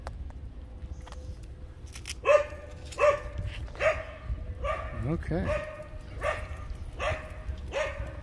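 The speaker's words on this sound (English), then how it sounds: "So he is who they're barking at." Dogs bark at a passing dog during a walk down Palisades Park in Santa Monica, sounding as several sharp, spaced barks mixed with a whimper and heard under outdoor ambience as someone speaks briefly.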